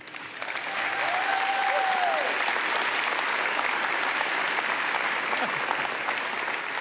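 Sustained audience applause for a keynote speaker at the ASUG annual conference, dense and even clapping from a large crowd that swells quickly and holds steady.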